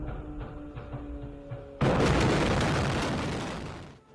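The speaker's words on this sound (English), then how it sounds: "the first of several cluster bomb strikes rips down the street. Each a collection of mini explosions" Cluster bomb strikes tearing down a street in a war between Azerbaijan and Armenia: a few faint distant pops, then a sudden loud crackling roar of many small explosions that slowly fades out.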